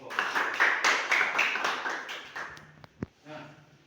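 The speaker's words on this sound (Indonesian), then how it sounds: "Beri aplaus kepada semua kelompok." Classroom applause for all the student groups, a few seconds of dense clapping from a small group that fades into scattered taps and quiet room noise.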